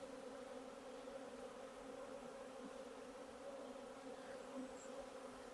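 A steady, dense buzzing of many honeybees in an open hive fills the air continuously, a constant low drone close by with no voices.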